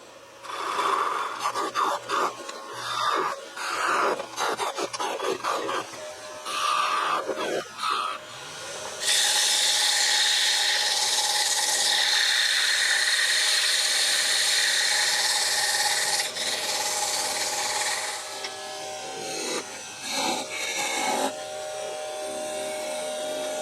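A lathe tool cuts into spinning wood while a cup is turned for a cup-and-ball toy, giving bursts of scraping and rasping, then a long steady hissing cut of about ten seconds before shorter strokes resume.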